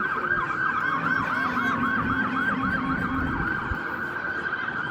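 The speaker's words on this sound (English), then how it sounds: "you hear our police cars are responding code 3, that means lights and sirens" Police car sirens wail continuously while responding code 3 with lights and sirens to a two-vehicle crash drill, a loud oscillating tone with low road rumble beneath.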